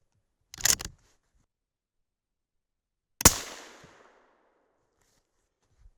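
A 6.5 Creedmoor rifle fires outdoors: a sharp click of the firing pin, a silent pause of over two seconds, then one loud close gunshot that decays with a short echo tail.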